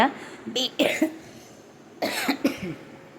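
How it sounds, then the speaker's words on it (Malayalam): Two bursts of close, harsh coughing, a few coughs each, separated by a short quiet pause. "വീണ്ടും ചുമ"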